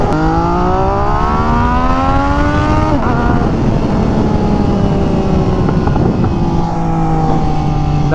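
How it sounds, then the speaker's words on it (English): An MV Agusta Superveloce motorcycle with an SC Project exhaust drones loudly on the move, its engine note rising and falling through gear changes, with a few crackling exhaust pops under heavy wind rush. "The pops sound really good."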